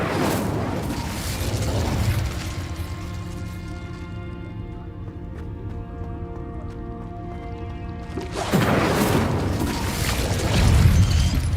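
The Incendio fire spell in Hogwarts Legacy bursts with a loud whooshing boom, followed by a lingering tonal hum, then another heavy roaring burst of fire and impact near the end.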